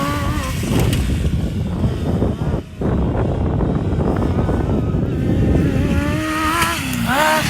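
A Honda Odyssey buggy fitted with a Suzuki GSX600 motorcycle engine, running on temporary drive chains that skip, roars loudly and steadily up close, its revs rising and falling with one brief dip partway through.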